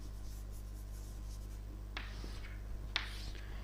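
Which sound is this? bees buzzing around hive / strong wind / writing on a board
writing on a board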